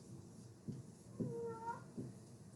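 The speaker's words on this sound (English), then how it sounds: "He's a very vocal cat." A cat meows once, a drawn-out rising-and-falling cry, over a steady background hum with a few soft thumps around it.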